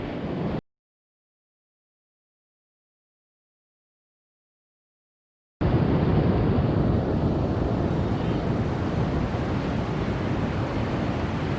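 Ocean waves crash and surge continuously against rocks on the shore, a loud, steady wash of surf with wind buffeting the microphone, after a few seconds of silence.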